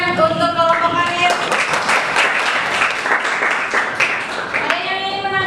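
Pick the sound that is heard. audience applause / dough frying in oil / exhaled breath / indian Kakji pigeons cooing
audience applause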